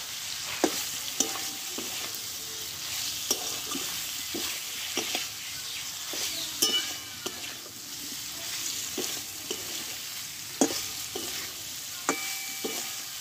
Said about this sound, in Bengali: ঘিটাকে দিয়ে দেব। দিয়ে ঘিটা দিয়ে একটু নাড়াচাড়া করে নেবো আবারও 1 মিনিট মতো।